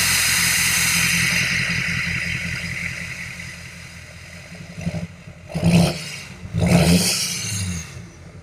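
A Chevy Silverado LML Duramax diesel pickup engine with a small muffler idles with a deep rumble, then revs up in three sharp bursts, each louder and more throaty than the last.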